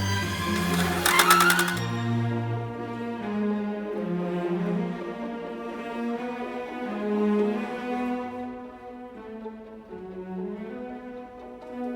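A sewing machine runs a long basting stitch at about 4.5 stitch length while sewing the interior of a fabric tote bag, giving a continuous, moderately quiet motor hum with a brief rattling burst near the start.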